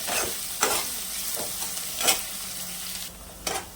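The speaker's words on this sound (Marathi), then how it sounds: "कांदा आपल्याला ना हलकासा ट्रान्सपर्यंत करून घ्यायचा" Onion sautés in hot oil in a pan, a steady sizzle with periodic louder scraping strokes of a stirring spoon, close and clear, with no voices.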